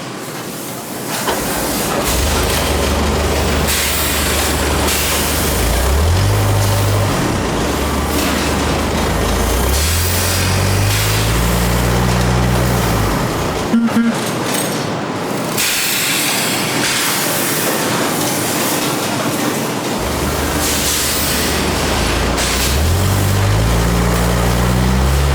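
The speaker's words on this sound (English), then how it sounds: "Well, here's our train." A model railroad train runs on a layout for a salt industry operation, a steady continuous rumble and hiss with rising and falling motor tones, briefly dropping out near the middle before resuming, loud and close with no voices.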